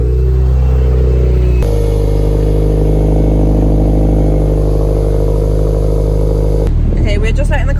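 A Toyota MR2 engine, freshly serviced with new oil, cranks and catches, then settles into a steady, close idle with a low rumble. There is some clatter near the end, and people talk around the engine noise.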